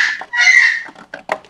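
A chicken squawks loudly and close by in one long harsh burst, followed by a few shorter clucks, with no talking.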